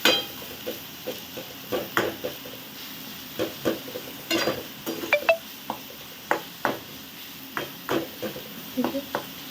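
Finely chopped onions frying in a pan until browning, a steady low sizzle broken by frequent clinks and scrapes of a spoon stirring against the metal, close and moderately quiet.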